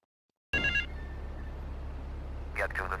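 A payphone rings in the video game GTA 3, starting abruptly after a brief silence with a bright, trilling electronic bell. It repeats in short bursts over a steady low hum, close and clear.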